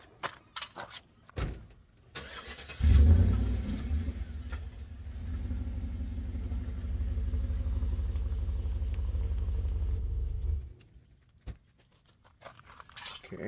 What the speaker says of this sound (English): now we're going to drive the SUV forward